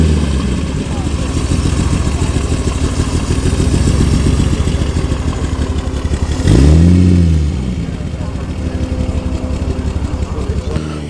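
A vintage Frazer Nash BMW sports car on a VSCC autumn rally, its engine running loud and close with a steady rough drone, then surging briefly as it passes nearby before settling back to a steady run.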